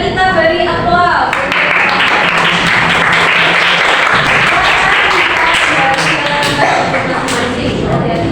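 An audience claps together for about eight seconds after a group presentation, the dense applause swelling quickly and holding steady and loud with a few voices murmuring underneath.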